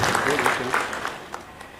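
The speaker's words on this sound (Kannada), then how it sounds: "ನಿಮ್ಮೆಲ್ಲರ ಚಪ್ಪಾಳೆ ಮೂಲಕ ಅವರಿಗೆ ಅಭಿನಂದನೆಗಳನ್ನು ಸಲ್ಲಿಸೋಣ." An audience at a journalists' association installation ceremony applauds, a dense patter of many hands clapping that is already underway and tapers off over about two seconds.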